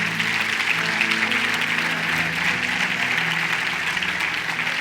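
A church congregation applauds steadily together, a dense sustained wash of clapping with faint tonal music or voices underneath throughout.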